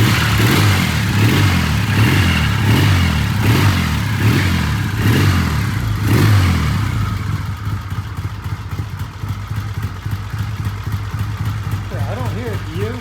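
Engine of a 1978 Triumph motorcycle rattling as it is revved in a shop, with several rising and falling revs close up before it settles to an idle, and voices talk over it.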